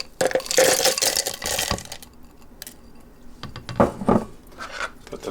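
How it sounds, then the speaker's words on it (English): Ice cubes from a previous batch tumble into the center of an Ice Genie ice maker, a burst of clattering, rattling impacts up close followed by a few scattered clinks. "So at this point I take the ice from the first batch, pour it into the center here."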